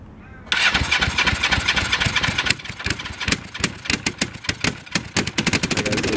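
A Suzuki GS500 motorcycle with exhaust wrap and muffler cranks and catches, then idles with a rapid, uneven popping beat, loud and close.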